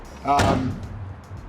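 A BMW E34 car door shuts with one loud slam near the start, followed by a faint, fading rumble and low background noise.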